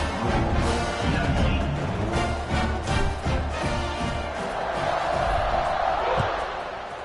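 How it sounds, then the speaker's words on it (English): A football stadium crowd at a USF home opener against Louisville roars steadily before kickoff, a dense, continuous wash of noise with a commentator talking over it. "this crowd now ready to get behind them"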